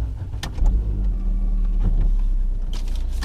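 Inside a car on a morning drive to school, the engine hums steadily with low road rumble and a few faint knocks, loud and close throughout.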